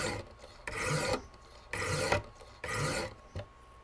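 A metal file rasps along a knife blade during sharpening, making about four steady, gritty strokes with short pauses between them, close and clear with no voices.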